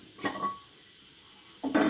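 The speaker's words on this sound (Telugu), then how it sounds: "ప్యాన్ పెట్టుకున్నాను" A couple of light metallic clinks, a brief quiet pause, then a heavier clunk of cookware set down on a hard surface.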